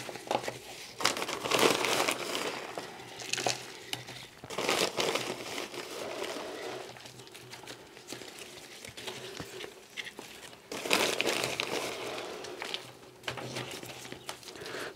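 Orchid substrate is poured and scooped into a pot during repotting, giving close, quiet crinkling and rustling bursts with short pauses in between, and no one speaks.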